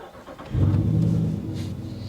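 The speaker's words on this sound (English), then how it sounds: "Let's fire this Jeep up and take it for a spin." A warmed-up Jeep Gladiator with a 5.7L Hemi V8 cranks and fires after a brief quiet moment, then settles into a deep, steady idle with no talking.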